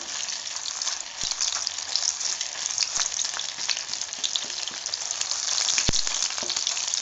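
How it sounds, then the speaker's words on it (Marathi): Paneer pieces coated in cornflour, chilli powder and salt fry in hot oil with a dense, steady crackling sizzle, close and continuous, with an occasional clink of a utensil and no talking. "आपण आता हे तळून घेणार आहोत थोडं थोडं टाकून तळून घ्यायचं"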